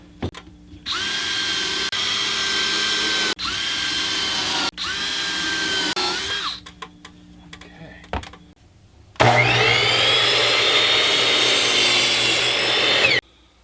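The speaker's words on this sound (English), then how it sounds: "I'm taking that pilot hole, drilling it all the way through" A power drill whines loudly in several bursts, drilling a pilot hole through a wooden board with a rising pitch, then a longer final run after a pause.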